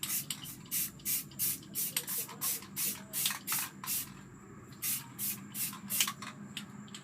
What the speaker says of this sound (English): So just spray lightly